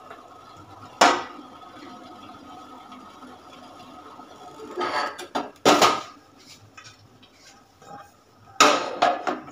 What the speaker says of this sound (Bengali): যে প্যানে আমি আচারটা বানাবো সেখানে আমি গুড়টাকে ছেঁকে দিয়ে দিচ্ছি।